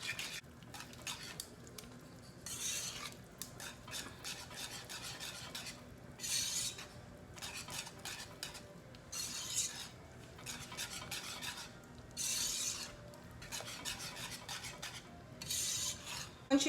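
A spoon stirs cheese sauce for baked macaroni and cheese in a pot, making repeated scraping strokes against the pot with soft rhythmic rasps and an occasional clink, close and steady, with no talking.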